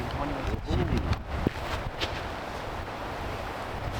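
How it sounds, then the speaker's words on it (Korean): Strong wind buffets the microphone at a seaside backpacking campsite on Gadeokdo, Busan, giving a steady, loud, broadband roar throughout, with faint voices low in the mix. "와, 바람 진짜 많이 나"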